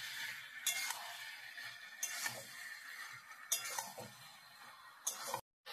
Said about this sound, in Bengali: এবার নাড়াচাড়া করি